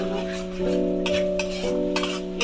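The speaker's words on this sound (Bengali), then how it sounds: "এটাও আমি দু তিন মিনিট ভালো করে কষিয়ে নেব" Cashew, raisin and poppy seed paste being stir-fried in a pan for katla fish rezala, with a low sizzle under repeated scraping strokes of a spatula against the pan and a steady background hum.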